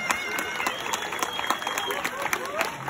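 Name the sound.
audience applause for SABA president Richard Ducharme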